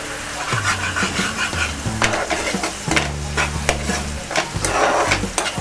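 Dahi prawn with turmeric, chilli powder and spices is stirred in a pan, with repeated close scraping strokes of a spatula over a bubbling sizzle, along with scratchy metallic rubs and short clinks.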